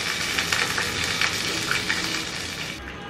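Rohu fish pieces frying in hot oil give a steady, dense sizzle with crackling bursts throughout, heard alone and fairly loud.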